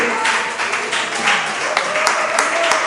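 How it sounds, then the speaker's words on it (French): A congregation at a church celebration gives an acclamation for the Lord, a loud, sustained burst of many people clapping together, steady and close throughout. "voudrais qu'on envoie une acclamation à notre Seigneur"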